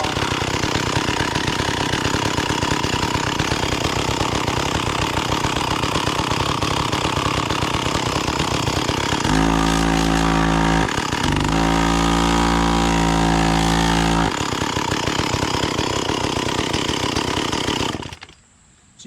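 An Echo CS-400 40cc 18-inch gas chainsaw with a seized centrifugal clutch runs loud and close with its chain brake on, idling raggedly, then bogging into a deeper labored drone mid-way before cutting off abruptly near the end.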